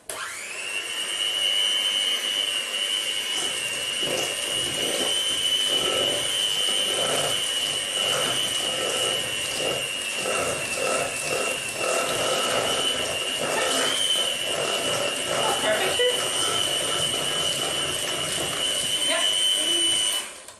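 Electric beaters whir steadily at a high pitch for about twenty seconds, mixing cupcake batter with a faint rattle against the bowl.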